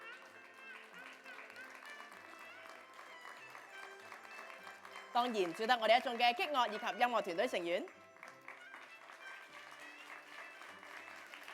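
An audience at a Cantonese opera teahouse performance breaks into a few seconds of loud applause in the middle of a man's amplified thank-you remarks, which carry on before and after.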